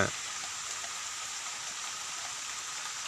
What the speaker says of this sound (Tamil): இப்போ மழை பெய்யுது க்ளீனாக சரியான மழைங்க